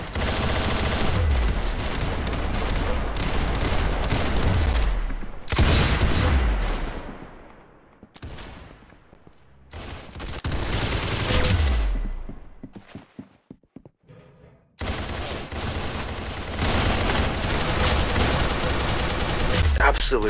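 Rapid gunfire from Roblox Arsenal, a first-person shooter game, with dense bursts of shots in long stretches broken by short pauses and scattered single pops, loud and close throughout.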